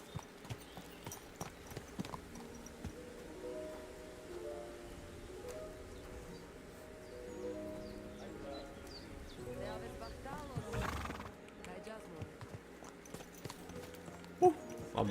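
Horse hooves clip-clop on the ground in Kingdom Come Deliverance II, a steady walking rhythm beneath game ambience and a voice talking over it.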